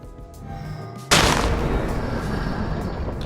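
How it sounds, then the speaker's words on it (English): In a Minecraft Origins mod, the Attack Titan transformation sets off a sudden, loud lightning strike and bang after a quiet, tonal lead-in. A dense, roaring wash follows and holds steady to the end. "with a huge strike of lightning and a bang, we are the Attack Titan"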